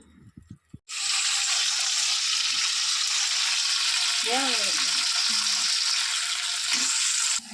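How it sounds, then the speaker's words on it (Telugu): Peanuts and other ingredients for mint chutney sizzle loudly in hot oil in a pan, a constant close frying hiss that starts abruptly after a brief quiet moment, with soft stirring scrapes and faint bits of talk underneath. "మొత్తాన్ని వేపుకోవాలి. కలుపుతున్నాము."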